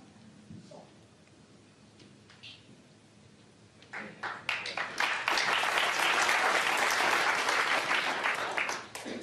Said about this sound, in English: Still got a ripple of applause for it.